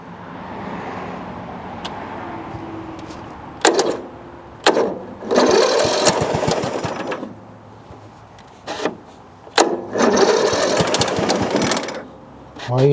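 A Snapper riding tractor engine cranks on key start in several separate bursts of grinding starter noise, each lasting a second or two, with quieter gaps and clicks between attempts.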